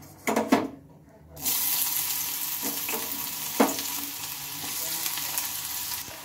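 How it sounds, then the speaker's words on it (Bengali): Chopped onions frying in mustard oil in a wok, a steady broadband sizzle that starts after a brief quiet moment and continues with occasional stirring clinks and scrapes, close and moderately loud, with no talking. "এদিকে পেঁয়াজটা আমি ভাজছি"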